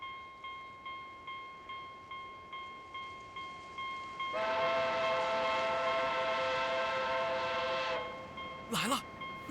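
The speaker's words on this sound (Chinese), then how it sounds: "快醒醒，火车来了！" An approaching train in an animated series: steady rhythmic wheel clatter builds, then a loud sustained whistle blares for several seconds, followed by a brief sharp squeal.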